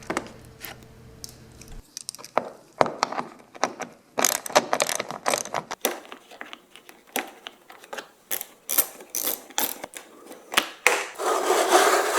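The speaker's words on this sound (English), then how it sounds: "there are 3 more screws on each side near the wheel well that you got to take out" Ratchet on a 2013+ second-generation Ford Fusion, backing out bumper cover screws near the wheel well, clicking in repeated close bursts of fast pawl ticks with short pauses between runs.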